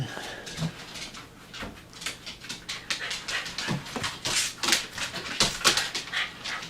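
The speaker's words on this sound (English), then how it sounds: "Sorry for the noise over there. It's just our dog." A pet dog whimpers and pants in a home, audible behind the room for about seven seconds as a steady run of soft, high whines and breathy pants.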